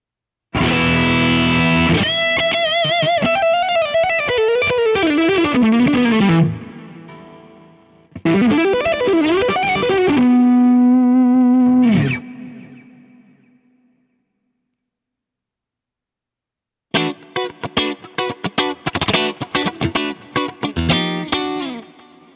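An Ibanez KRYS10 electric guitar runs through several preset scenes with effects and heavy compression: sustained distorted chords and bends, a gap of silence, then tight staccato chugging, loud and alone.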